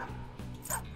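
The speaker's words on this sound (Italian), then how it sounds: "Cagnolino." A small dog in the video game Persona 5 Royal gives a quick yappy bark or two over steady game background sound.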